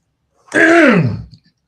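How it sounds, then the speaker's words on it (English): A single throat clearing, close and fairly loud, lasting under a second before silence returns. "Had to clear my throat there."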